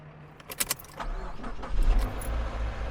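A car at a truck stop: keys jangle briefly, then the engine cranks and catches, settling into a low, close rumble.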